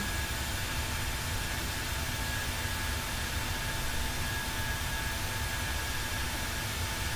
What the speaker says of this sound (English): The engines are still too loud.